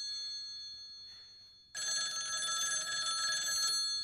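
A payphone in a movie rings with a bright, sustained electronic trill that cuts in loudly after a quiet stretch and holds steady to the end.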